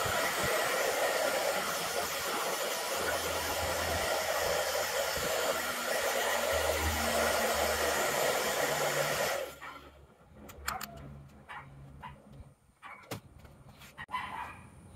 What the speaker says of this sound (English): I can hit this with blow dryer.